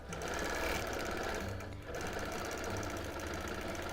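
Sewing machine stitching free-motion quilting, a fast steady mechanical needle chatter heard close up, with a brief slowdown midway before resuming, no talking.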